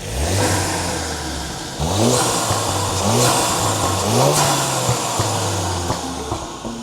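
A Ford Focus RS with an induction kit and Mountune exhaust revs up close and loud, several sharp throttle blips rising and falling over a rumbling idle, with no talking.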